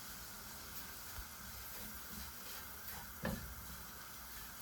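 Flour being roasted with garlic in a pan for a chicken spread sandwich gives a steady, quiet frying sizzle with a soft hiss, plus a brief louder scrape or stir near the end.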